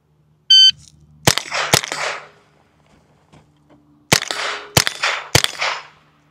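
An electronic start beep, then five sharp, loud pistol shots ringing off steel targets during a Steel Challenge run, fired in two quick clusters with a pause between them.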